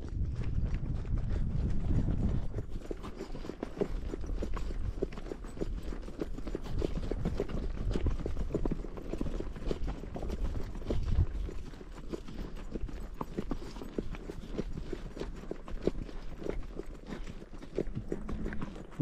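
A horse's hooves clop in a steady walking rhythm on a ranch, close and continuous, over a low rumble of outdoor background noise.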